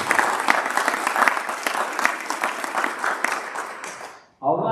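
A Board of Education meeting crowd gives a round of applause for an honoree, brisk clapping that thins and fades out before a voice starts speaking at the end.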